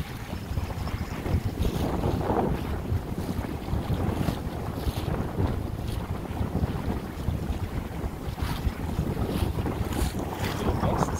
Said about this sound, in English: Don't you love it when the rigging shrieks?